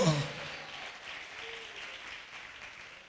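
Applause from a church congregation during a Sunday service, a dense wash of hand claps that starts strong, then settles into a steadier, softer patter behind a voice at the very start.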